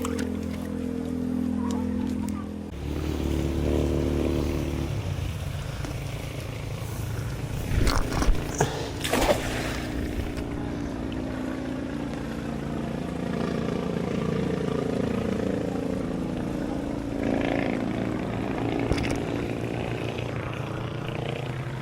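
A motorcycle engine being worked on runs steadily at idle and mid revs for the whole stretch, with clattering bursts and revving swells partway through and faint voices now and then.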